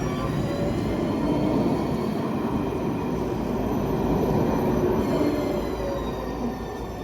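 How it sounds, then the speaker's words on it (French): A new tram pulls away from a stop in Besançon with a steady, loud rumble of wheels on rail. Faint squeals ride over it, and the noise holds constant for about seven seconds before easing slightly at the end. "nous quittons ce tram et la laissons repartir vers Haut-du-Chazal"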